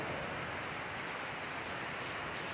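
Steady rain pours in cold weather in Pangasinan, a dense, even hiss that holds without a break and has no voices over it.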